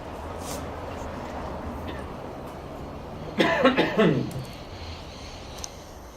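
A short cluster of coughs rises briefly from a steady hiss of room noise at an outdoor or hall gathering honouring municipal workers, with a voice faintly around it.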